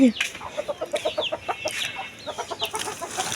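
Chickens cluck nearby in quick repeated bursts, a rapid series of short clucks with a few higher squawks, and no one speaking.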